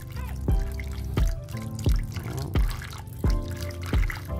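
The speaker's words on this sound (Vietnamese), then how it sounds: "mình chỉnh nước chảy nhỏ thôi" A tap runs on a low flow while bobo fish food for guppies is rinsed, giving a regular series of distinct, close drips and splashes roughly every two-thirds of a second over a faint watery background.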